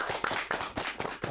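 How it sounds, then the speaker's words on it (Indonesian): Applause welcoming a guest on a podcast set, a small group clapping at close range with uneven, fairly loud hand claps lasting a moment, no talk over it. "Tepuk tangan."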